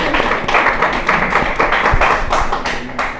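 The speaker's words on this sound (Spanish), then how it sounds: "Aplaudamos, ¿ya?" A small group at a creative writing session claps together, a dense run of quick, close handclaps lasting a few seconds that tapers off slightly at the end.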